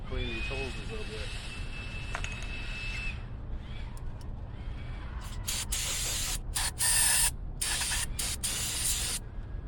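Brake cleaner sprays in hissing bursts onto engine hoses of a Cutlass 307 engine, several short sharp blasts following a stretch of background talk and low engine-bay noise.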